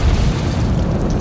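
A deep, loud explosion from a film about a mine dig, a dense rumbling boom that fills the clip with no voices over it.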